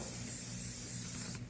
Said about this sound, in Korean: 그러고 난 다음에 스프레이.